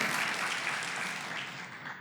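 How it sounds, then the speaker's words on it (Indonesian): A church congregation claps together, a dense, even wash of hands sustained for a couple of seconds and tapering slightly at the close. "Yang setuju berikan tepuk tangan buat Tuhan yang memegang hidup kita."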